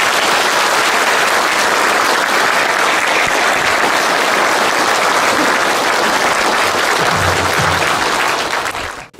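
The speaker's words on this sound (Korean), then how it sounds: "큰 박수 부탁드립니다." Loud, sustained audience applause at a lecture as a former police commissioner is introduced as guest speaker, a dense wash of clapping that continues for the whole stretch before cutting off abruptly.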